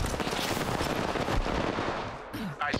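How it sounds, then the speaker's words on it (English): Rapid automatic gunfire in a multiplayer shooter, aimed at an enemy shield, a loud continuous stream of shots with game effects and faint voice underneath. "I shot at an enemy shield."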